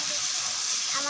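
Chicken chaap sizzles in a frying pan with a steady, close, hissing crackle of hot oil that continues unbroken through the short moment.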